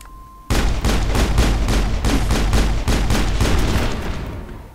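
Sustained rapid-fire shooting in the sci-fi game Mass Effect, loud and close, a steady rhythm of evenly spaced shots that kicks in abruptly and keeps going for several seconds with no talking.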